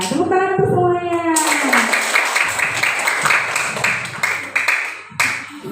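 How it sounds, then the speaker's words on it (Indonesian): Schoolchildren in a classroom break into group hand clapping after a teacher's voice, dense, steady clapping with kids' voices mixed in, close and fairly loud. "Nah, tepuk tangan untuk semuanya."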